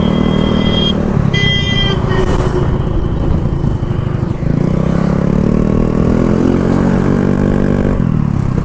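A Honda Fascino scooter with its exhaust DB killer removed runs close and loud, a steady deep engine drone with a rising rev near the middle and another swell near the end, no talking over it.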